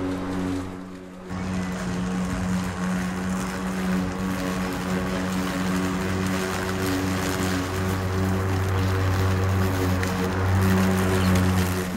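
A 43 cm battery lawn mower starts after a short pause and then runs with a steady electric motor hum and whirring blade, constant and close for the rest of the stretch, with no talking.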